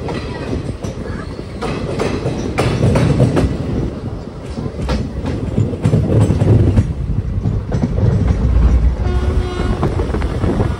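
A passenger train pulls out of Asansol station, heard from on board: loud continuous rumble with rhythmic clickety-clack of wheels over rail joints, occasional sharp clanks and a faint wheel squeal.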